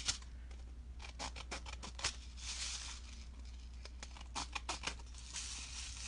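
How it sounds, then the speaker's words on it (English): Scissors snip through paper in a quick run of small, crisp cuts, close and quiet, trimming the edge of a handmade shaker card against a low steady hum. "I am going to just take my scissors and just remove where I didn't line it up"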